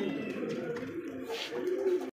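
A pair of Super Mili pigeons coo in soft, throaty, rolling bursts, close and fairly steady before cutting off abruptly.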